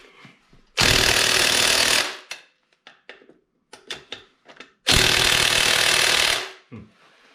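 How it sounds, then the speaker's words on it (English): Impact driver for screws fitted with a socket adapter, removing lug nuts from a Massey Ferguson MF1650 tractor wheel: two loud, close buzzing hammering bursts of about a second and a half each, separated by clanks and rattles of handling. "So we'll remove the lug nuts that are on there."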